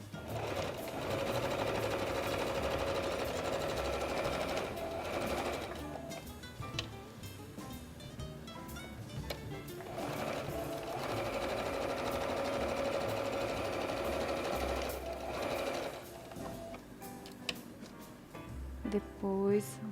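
Sewing machine stitching the crotch seam of a doll's trousers, with steady rapid runs of stitching that pause and restart several times, heard up close.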